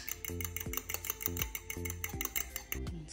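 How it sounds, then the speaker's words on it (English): A fork whisks an egg in a dish while a chicken pot pie is being made, giving a quick run of light metallic clinks and taps in an uneven rhythm, close and fairly quiet. "I'm gonna crack an egg. I'm gonna whisk it with my fork."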